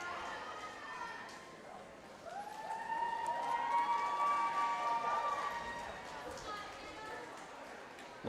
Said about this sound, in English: spectators trying to cheer her on as she slowly approaches the end of the pool